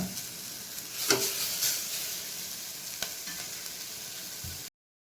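Onions frying in a pan until golden for tomato rice: a steady close sizzle with a few stirring scrapes and clicks, no talk, ending abruptly.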